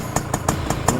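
A 1979 Suzuki A100 motorcycle engine idles steadily with evenly spaced pulses, running close and fairly loud on its own.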